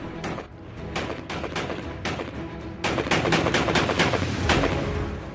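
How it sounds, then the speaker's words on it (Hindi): Bursts of rapid gunfire crackle repeatedly, sharp volleys of shots with short gaps, loud and sustained over a rumbling background, fired at US helicopters during a search operation. "सर्च ऑपरेशन में जुटे अमेरिकी हेलीकॉप्टर्स पर यह फायरिंग ईरानी पुलिस और कबायली गुट कर रहे हैं।"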